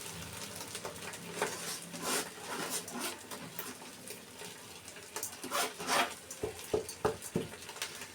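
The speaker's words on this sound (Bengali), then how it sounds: "তো পোলার চালটা দিয়ে দিচ্ছি" Raw polao rice grains poured into a rice cooker give off loose, patter-like rustling bursts that swell and fade, with sharper clicks toward the end.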